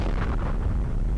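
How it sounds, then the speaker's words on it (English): An explosion in a survival-crafting video game booms as a dense, low rumbling burst, loud and steady across about a second with no talk over it. "I just heard another explosion."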